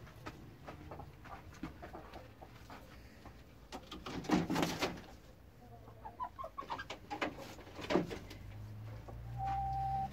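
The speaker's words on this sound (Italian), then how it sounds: "Abbiamo un trasporto illegale di galline." Chickens being transported cluck and squawk intermittently in short bursts, fairly close, over a low steady rumble of background noise.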